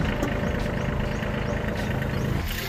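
A Kubota 21 HP small tractor engine runs steadily at close range, a continuous low mechanical drone with no talk.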